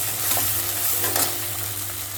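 Chopped tomato and onion fry steadily in a hot pan for chicken noodles, making a constant close sizzle with a few soft stirring scrapes and no talk.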